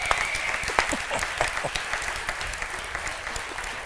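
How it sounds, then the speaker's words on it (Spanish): Lively audience applause at a live interview event, dense clapping with distinct sharp individual claps standing out, steady throughout with faint voices underneath. "¡Vamos, un aplauso!"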